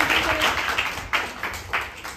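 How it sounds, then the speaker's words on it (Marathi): An audience claps at a Marathi talk event, producing a few scattered, uneven bursts of hand claps rather than sustained applause. "जोरात टाळ्या वाजवा"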